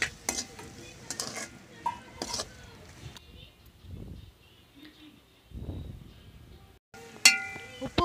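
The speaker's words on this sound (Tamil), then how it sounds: "நாம பொரிச்சு வச்ச காளானை இது கூட சேர்த்து நல்லா கலக்கி விடலாம்." Fried mushrooms are stirred into Manchurian sauce in a pan, with intermittent scraping strokes, clinks of a spoon against metal and short bursts of sizzle separated by quieter gaps.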